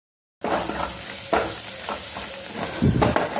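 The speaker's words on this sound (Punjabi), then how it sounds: "ਮਸਾਲਾ ਭੁੱਜ ਗਿਆ" Loud sizzling of spices frying in hot oil for dal starts abruptly, with occasional stirring scrapes over a continuous crackling hiss.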